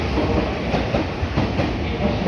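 A train rolls into Kanayama station in Japan with a steady, dense rumble and faint clickety-clack of wheels, close and continuous with no voices.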